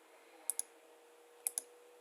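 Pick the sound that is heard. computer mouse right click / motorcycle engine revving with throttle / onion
computer mouse right click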